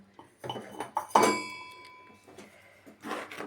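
A spoon stirring tomato chutney in a metal pot, with a few close clinks and scrapes against the pot in uneven bursts and quiet gaps between them.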